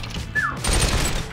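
Gunfire hits targets in the Fortnite VR game, a brief, sharp burst of rapid shots that lands after a short electronic chirp and stays fairly quiet.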